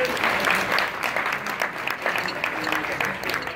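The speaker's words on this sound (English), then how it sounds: "a big round of applause for Simon and his family" A room of guests at a bar mitzvah candle lighting gives a round of applause for Simon and his family, with loud, continuous close clapping and a few faint voices underneath.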